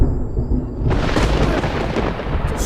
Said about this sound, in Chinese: 这说打雷就打雷啊！